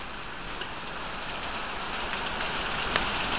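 Hard rain falls during a summer storm in Michigan, an even, close hiss of drops on surfaces with one sharp tick near the end and no voices.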